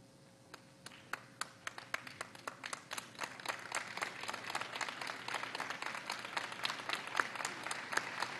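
A graduation convocation audience gives polite applause, starting as scattered individual claps and building into denser, steadier clapping, moderately distant in a large hall.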